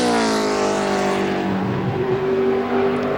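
A NASCAR race car on a qualifying lap roars past close and loud, its high engine whine sliding down in pitch as it passes, with a steady sustained drone throughout.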